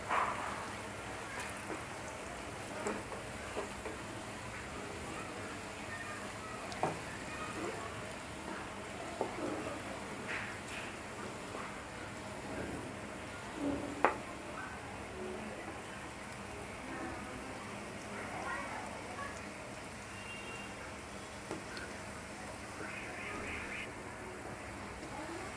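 Onions frying in oil in a home kitchen until lightly browned give a steady, soft, rain-like sizzle with scattered small pops. It stays faint throughout, and a voice speaks briefly at times.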